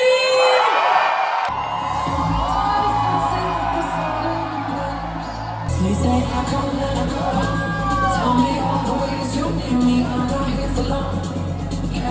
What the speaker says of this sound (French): Je vais vous demander d'acclamer et de danser et de crier pour Bounadi.